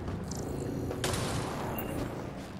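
A gunshot in the video game Mass Effect: Andromeda, a sharp blast at the one-second mark that cuts through continuous loud game noise and rumble, with a brighter crack near two seconds.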